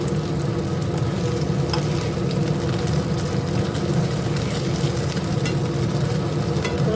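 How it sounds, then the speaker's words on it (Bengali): Bora fritters frying in hot oil give a steady, close, dense sizzle with occasional light stirring scrapes, continuous throughout with no talking. "এখানে বড়াগুলো ভাজছি"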